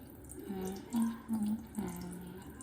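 Tap water running steadily into a sink, a soft continuous rush with a few brief louder splashes, close by.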